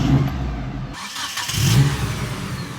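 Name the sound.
Mitsubishi Express engine cranking and starting after battery upgrade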